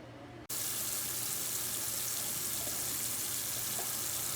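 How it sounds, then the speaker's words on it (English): After a brief quiet moment, a cold-water tap gushes on full, a loud, steady rush of running water splashing close by as food for posole verde is rinsed. "then we're gonna wash it with cold water"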